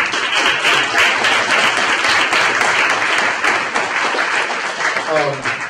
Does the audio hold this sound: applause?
yes